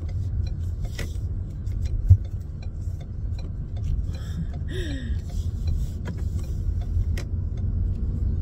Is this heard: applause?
no